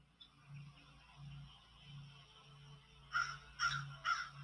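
Crows caw three times in quick succession, clear and moderately close, against a quiet summer background in southeastern Wisconsin with faint low hum.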